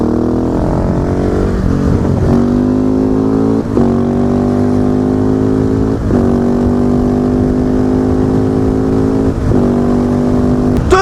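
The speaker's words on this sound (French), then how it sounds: "je vais quand même vous faire une petite accélération sur la voie rapide" A motorcycle accelerates hard on a wet expressway in the rain and cold, the engine loud and close, climbing through several gears with brief dips at each shift, steady wind rush throughout.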